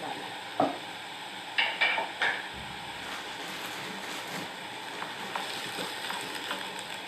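Tomatoes and peppers for taco filling are stirred in a pan, with a few soft scraping strokes over a faint steady sizzle, quiet and close.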